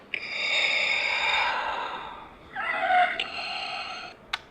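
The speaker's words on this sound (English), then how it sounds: "this little button on the side, it's going to activate your breathing noises for the mask" A Darth Vader Black Series electronic helmet plays its breathing effect, two mechanical respirator breaths, a long inhale-like hiss and then a second shorter one, fairly quiet and close, with a faint click at the end.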